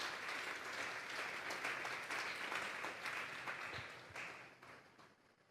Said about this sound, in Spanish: Vamos a darle un fuerte aplauso al Señor esta tarde.